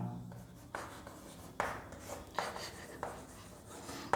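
Chalk or marker strokes on a board in a class 11 chemistry lesson, a series of scratchy rubbing bursts roughly every second, close and moderately quiet, with no talk over them.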